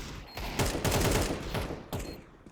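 Rapid gunfire in Counter-Strike 2 during a collegiate esports match, a dense burst of overlapping shots lasting over a second, then a short second volley, loud and close with no talk.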